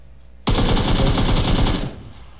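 Automatic gunfire in PUBG Lite on the Sanhok map: a loud rapid burst of closely spaced shots lasting about a second and a half, starting abruptly and ending with a brief decay.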